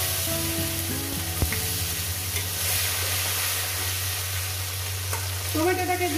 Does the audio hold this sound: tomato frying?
yes